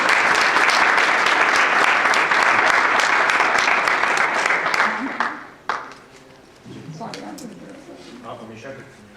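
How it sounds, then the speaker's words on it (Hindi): An audience at a Hindi-Urdu poetry gathering in Atlanta breaks into loud, sustained applause. The clapping fades after several seconds as a voice begins speaking over the thinning claps. "जरा भरपूर तालियां।"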